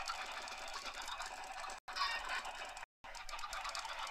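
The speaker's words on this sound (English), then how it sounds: "they do make a lot of noise, especially once you've got, like, a couple hundred chickens in the same spot." A couple hundred Minecraft chickens crowded in one spot in a singleplayer world make a dense, continuous clucking chatter that fills the clip, cutting out briefly twice before resuming at the same steady level.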